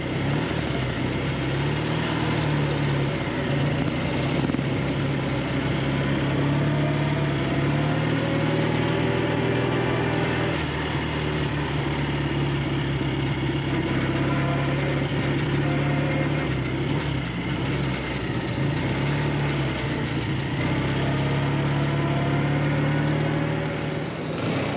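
A classic BSA motorcycle engine runs steadily while ridden on a track, a continuous loud mid-pitched drone with a constant tone and little variation in speed throughout.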